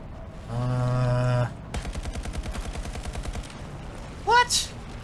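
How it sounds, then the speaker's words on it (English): Battlefield 2042 gunfire: a rapid run of sharp, evenly spaced shots follows a sustained tone, with a brief higher chirping sound near the end; a voice is heard over parts of it. "that's a sniper trying to get at me, bro"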